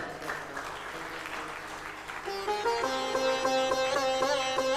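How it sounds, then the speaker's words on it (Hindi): An audience at a Hindu religious katha gathering applauds after a sacred thread ceremony for sons. The steady, dense clapping is then joined by rising music, with no speech over it. "एक बार जोरदार तालियां बजाएं"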